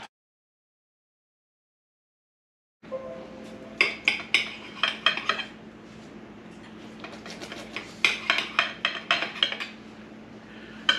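Plates and cutlery clink while lemon garlic Parmesan chicken and pasta is plated. After a quiet start come close, bright, irregular clusters of clinks and scrapes.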